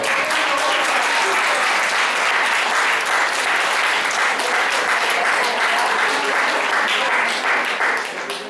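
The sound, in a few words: audience applause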